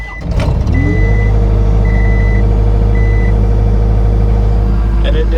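A New Holland L175 skid steer with a snow plow cranks briefly, then its diesel engine catches and settles into a loud, steady idle that runs on without a break, with a faint beeping in the background.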